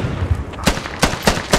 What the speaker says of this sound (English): Use your rifle mounted grenades to blow it up, Lily!